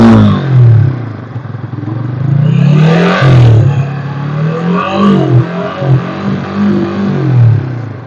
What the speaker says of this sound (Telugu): సౌండ్ కూడా ఒకసారి చూసుకోవచ్చు మనం. ఇంజన్ కూడా సైలెంట్ ఇంజన్.